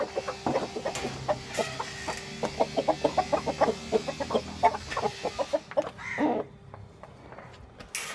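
Chickens cluck in a coop, many short close calls in an uneven rapid patter with some louder squawks, fading near the end.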